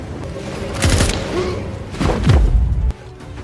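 Gunfire in a World War 2 war film, heard as two loud bursts of blasts and booming impacts about a second apart, with a lower rumble between them.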